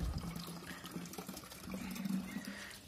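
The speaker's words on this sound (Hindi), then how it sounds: "नलका में पानी आ गया है" Tap water running steadily into a container set out for birds, a soft continuous trickle and splash at moderate distance with no talk.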